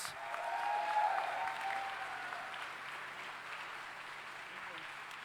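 Audience applause at the Formula SAE Michigan awards ceremony, a soft, distant wash of many hands clapping that swells then holds steady, with a voice briefly heard early on.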